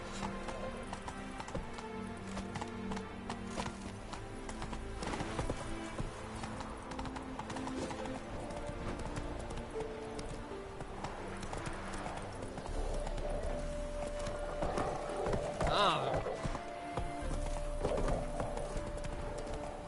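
Horse hooves gallop in a steady clip-clop rhythm in The Witcher 3, carrying under game music and ambience for the whole stretch, with a brief whinny around the middle and no one talking.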